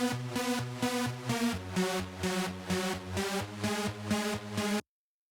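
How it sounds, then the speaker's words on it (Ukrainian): Octave synthesizer line from a pop song, a bright pulsing riff of repeated notes jumping between octaves in an even rhythm, played alone and stopping abruptly near the end. "І далі октавний синтезатор."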